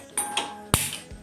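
Several sharp clicks and ticks from a gas stove being switched on come close by, spaced apart, one louder snap followed by a faint low thump, with no talking.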